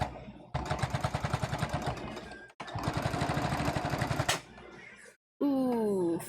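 A sewing machine stitching through fabric runs in two fast rhythmic bursts of close, loud needle thumps, separated by a brief stop; after a silent gap, a short voiced sound follows.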